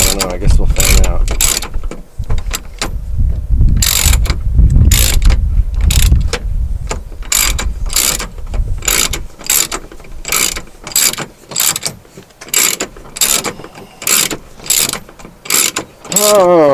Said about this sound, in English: You'll flip the little thing on the ratchet and you'll start tightening it instead of loosening it.